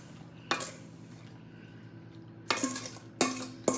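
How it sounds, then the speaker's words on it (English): Mixed Michigan cherries going into a pie dish, a few separate clattering, wet knocks against the dish, close and fairly loud with quiet gaps between them. "So I'm going to first put my cherries in that I've mixed up."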